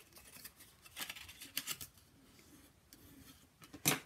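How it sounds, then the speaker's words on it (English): Paper box pieces being folded and creased by hand for a Year of the Tiger pop-up box: sparse, soft crinkling and sharp crisp creases, close and quiet, ending with a brief louder paper snap. "So I'm just folding these."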